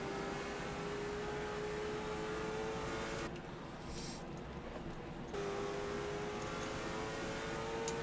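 Late model stock cars lapping the Myrtle Beach Speedway short track, a steady loud engine roar that drops slightly for a couple of seconds as a car passes, then swells again.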